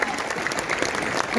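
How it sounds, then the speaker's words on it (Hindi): Applause from a seminar audience, steady broadband clapping filling the whole short stretch at moderate level, crowd noise blended in, no distinct voices standing out. "तो जोरदार तालियां मेरे बड़े भाई सुरेंद्र बस जी के लिए"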